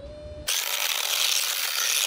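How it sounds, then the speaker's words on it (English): A motorised observatory dome slews round on its track, a steady loud mechanical rumble and whir that starts abruptly after a brief quieter tone and runs unbroken. "now we'll slew the dome round to the side that I'm working"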